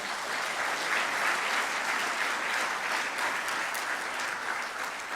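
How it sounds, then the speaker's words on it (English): The audience at a Caribbean sargassum conference gives a round of applause for spoken word artist Aquino Romain, even and sustained clapping from a large room at moderate volume. "Let's give him another round of applause."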